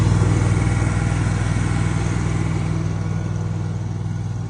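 An engine-driven welder runs at a steady, loud drone while charging the battery of a Takeuchi skid steer loader that won't start, alone and close up.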